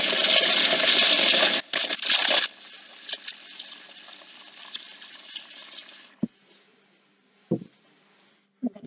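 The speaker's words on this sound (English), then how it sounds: "I filled it with water just to rinse that out when I'm done" Water gushes loudly into a slop bucket on a pig farm for a couple of seconds, then falls to a quieter trickle and slosh with a few scattered splashes and knocks.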